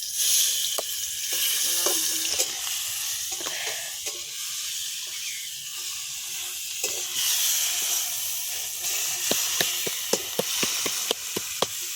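Marinated chicken fries in hot oil for a chicken roll, giving a loud, continuous sizzle and hiss, with sharp scraping taps from stirring that grow more frequent toward the end.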